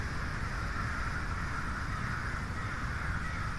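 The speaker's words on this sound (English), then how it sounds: "we got some little birds that call themselves helping" Crows caw among trees in the woods, a broad, steady harsh cawing that persists throughout without pauses, moderately faint and without any talk.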